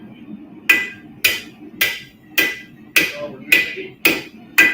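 A hammer strikes hot Damascus steel during forging in a steady rhythm of eight loud, ringing metallic blows about half a second apart, close by, with a brief spoken remark at the start.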